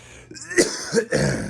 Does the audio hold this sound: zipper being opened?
no